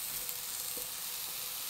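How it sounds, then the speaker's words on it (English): Washed mushrooms sizzle steadily in an electric frying pan, a close, continuous hiss of frying with no talking over it. "Oh, sizzling. Oh, it's sizzling."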